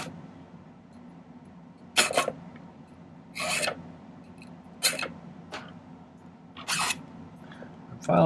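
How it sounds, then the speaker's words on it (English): A hand file rasps a silver ring shank thinner in short, separate bursts of scraping, about five strokes with pauses between them, close and fairly quiet in a still room. "Filing it thinner in both dimensions, so I'm leaving the bottom flat."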